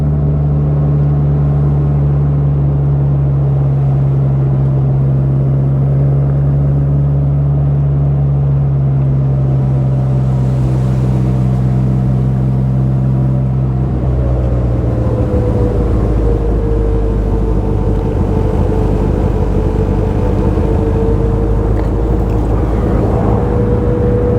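A 1960 Bugeye sports car named Barney drives along with its engine running steadily. A loud, continuous drone shifts pitch midway as it changes speed, with no voices.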